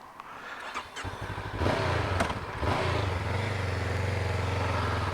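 A Honda NX500 motorcycle engine starts up after a brief cranking whir, then settles into a steady, throbbing idle close by with no one speaking.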